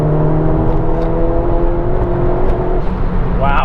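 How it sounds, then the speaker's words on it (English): A Mk1 Ford Focus RS pulls hard from inside the cabin, its engine drone rising steadily and loud, ending in a short turbo dump-valve whoosh. "I love the sound of the dump valve"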